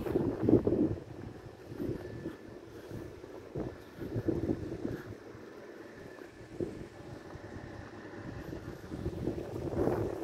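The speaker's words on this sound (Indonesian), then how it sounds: "angin yang gede" Strong wind blowing outdoors while someone walks, a continuous rumbling buffet against the microphone with gusty swells, fairly quiet overall.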